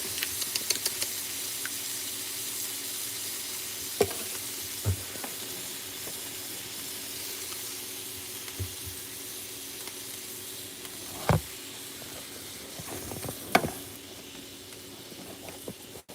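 Diced minced onion frying in a pan, a steady broad sizzle and hiss running the full length, with a few brief clinks and scrapes of stirring scattered through, close and continuous with no talk.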